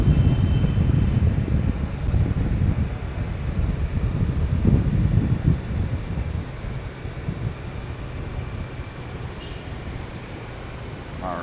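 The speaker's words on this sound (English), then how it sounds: "Man, it's a windy day." Gusts of wind buffet the microphone outdoors at a Saigon metro construction site on a windy summer day, strongest early on and easing to a steadier low rush toward the end.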